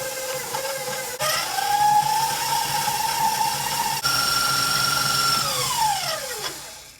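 An electric mixer creams butter and sugar for a coffee cake at medium speed, a steady loud whirring hum whose pitch wavers and shifts, with a brief clunk midway before the motor winds down at the end.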